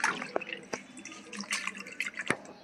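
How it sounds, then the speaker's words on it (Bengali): Leaves are washed in water, with close splashing, dripping and sloshing in short irregular bursts throughout. "দেখুন পাতাগুলো বেশ ভালো করে ধুয়ে নেব।"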